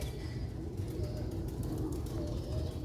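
Pigeons at a breeder's loft coo softly and steadily through a low, continuous murmur, close by with no talking.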